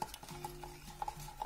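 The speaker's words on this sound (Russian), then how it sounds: "Давайте еще размешаем. Я взяла уже железную ложку" A metal spoon stirs a clay mixture for casting in a silicone mould, giving soft repeated scraping with a few light clinks against the container, close and faint, with no talking.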